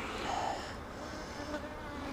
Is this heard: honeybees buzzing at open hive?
yes